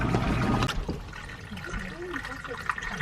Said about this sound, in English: everything just kind of drains right into our tub